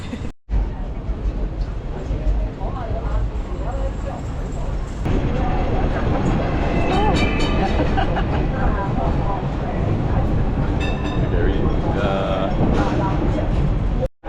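A skinny double-decker tram in Hong Kong rumbles along its street rails with rattling wheels and metallic clatter, sustained and close, while people talk over it.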